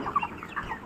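Broiler chickens on a poultry farm cluck softly in a brief, faint burst of a few close calls.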